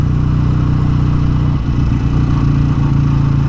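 A BSA A10 Super Rocket motorcycle engine crackles and rumbles steadily while being ridden on a blustery day, a loud, continuous low throb with wind buffeting throughout and no talking.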